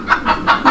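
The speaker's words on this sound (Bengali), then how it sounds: "এটা ডিম পাড়া মুরগি দর্শক আপনারা দেখতে পাচ্ছেন" A laying hen at a fancy poultry market gives four short, close clucks in an even rhythm.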